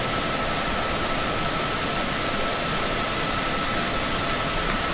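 BEDE BD-5J jet climbing out in Microsoft Flight Simulator, a steady, loud, unbroken jet roar with a high whine on top and no talking.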